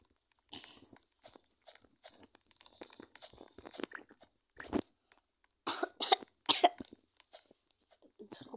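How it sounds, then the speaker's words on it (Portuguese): A person coughs repeatedly outdoors, producing a series of close, sharp bursts of varying strength that grow louder toward the end, with no speech. "que eu fico tossindo às vezes"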